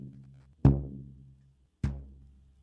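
Two plucked rubber band bass tones recorded for homemade music, each a deep twang with a sharp attack and long decaying hum, close and fairly quiet, separated by a short silence.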